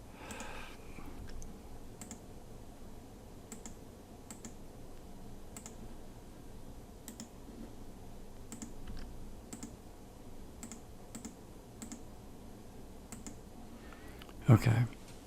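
Light keystrokes tap on a computer keyboard in an irregular, quiet sequence over soft room noise, ending with a louder clunk.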